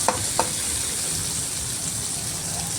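Chopped tomato sizzles in a frying pan as it is stirred, with two sharp utensil knocks near the start and then a steady, close frying hiss.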